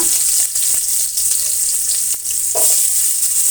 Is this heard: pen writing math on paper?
no